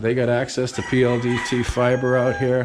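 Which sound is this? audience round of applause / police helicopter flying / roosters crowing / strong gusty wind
roosters crowing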